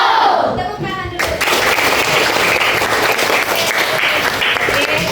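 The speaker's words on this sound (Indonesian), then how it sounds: "Tepuk tangan dulu." Students clapping together during a school orientation event, a loud sustained burst of crowd applause filling the whole clip, with a voice briefly audible at the start.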